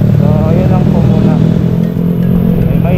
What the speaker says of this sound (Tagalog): May maingay ng motor.